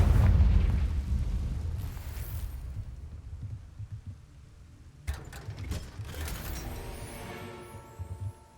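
Confringo blasting spell going off in Hogwarts Legacy: a heavy, rumbling explosion at the start that fades into mechanical clanks and a second crackling burst, with no talking.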